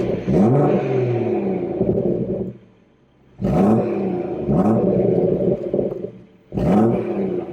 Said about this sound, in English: I'll give it a cheeky rev in comfort first